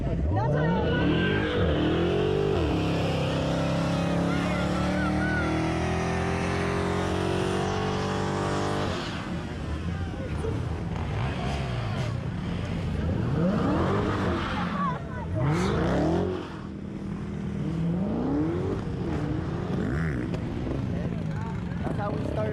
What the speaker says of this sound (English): Burning out, gonna end up with no tires.